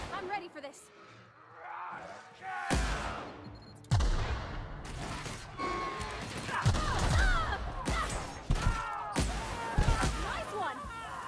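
Bursts of gunfire from The Outer Worlds video game as enemies are shot, sharp repeated shots in clusters mixed with game effects, while a player talks throughout.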